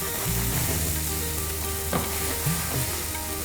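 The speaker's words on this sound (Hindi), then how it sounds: "तो हम प्याज को हल्का सा पकने देते हैं," Onions frying in a pan with a pinch of salt, a steady close sizzle running throughout with a few soft stirring scrapes near the middle and end.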